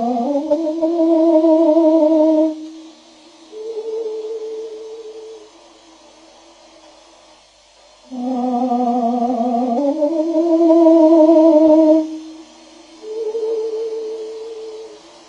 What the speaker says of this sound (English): That is the sound of a bird, slowed down to a pace that the human ear mistakenly recognizes as its own.